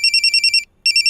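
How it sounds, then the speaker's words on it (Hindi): A phone ringtone rings loud and close: a fast run of bright electronic chirping pulses, a brief gap, then the pulses start again. "चल अच्छा है तूने ओम शांति ओम का रिंगटोन नहीं रखा है।"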